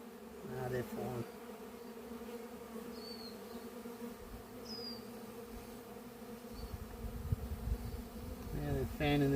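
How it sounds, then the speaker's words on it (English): A swarm of Italian honeybees caught in a tub, buzzing and fanning their wings, gives a steady close drone that thickens toward the end, with faint speech at moments. "Now they're fanning their wings."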